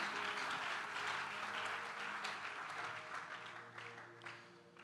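A church congregation applauds loudly during a French-language sermon, a dense, sustained wash of clapping that gradually thins toward the end.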